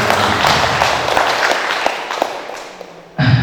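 A crowd applauds at a community dialogue meeting in Pakisaji, a steady wash of clapping that holds for about three seconds, then tapers and stops abruptly, followed by a brief louder low rumble.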